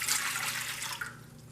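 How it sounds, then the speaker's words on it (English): Warm water pours steadily into a bread machine pan, a soft continuous splashing trickle close up that thins out toward the end, with no talking over it. "So I'm going to start off with 1 cup of warm water"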